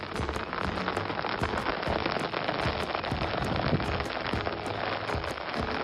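Heavy rain on a Mount Sumbing hiking trail makes a dense, steady hiss with close raindrop patter and spatters striking surfaces throughout, loud and continuous with no voices.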